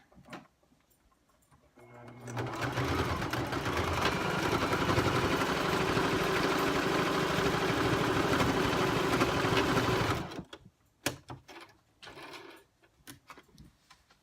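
A sewing machine runs steadily for about eight seconds, stitching the mouth closed on a small fabric catnip fish toy, close and mechanical, then stops, followed by a few faint handling clicks.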